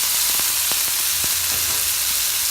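Steady loud sizzling of onions and tomato frying in a hot pan for vatha kuzhambu, with occasional crackles and stirring clicks, no voices.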